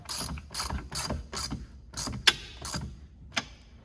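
A hand ratchet tightens bolts on a Jeep JK four-door's door, its clicking strokes coming in about eight close, loud bursts with brief pauses and a sharp metallic clack between them, with no talking.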